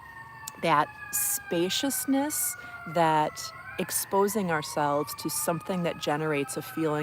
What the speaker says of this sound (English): And sorry about the sirens, but hey,